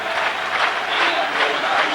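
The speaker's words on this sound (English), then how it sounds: "the record man leaves the field to great applause" A football stadium crowd at the 1989 Denmark v England friendly international applauds as goalkeeper Peter Shilton leaves the field, giving a dense, steady roar of distant clapping with no break.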